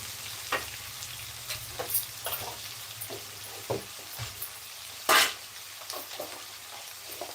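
Tomatoes cook in a pan for an okra tamarind curry, with a soft, steady sizzle broken by a few clicks and scrapes and one louder clatter midway.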